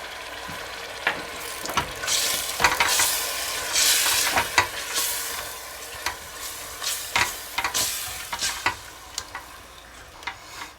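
Tomato sauce seasoned with dried oregano, thyme, paprika, salt and black pepper cooks in a pan for Mexican red spaghetti. A loud, near sizzle is broken by repeated scraping stirs and clinks of a utensil.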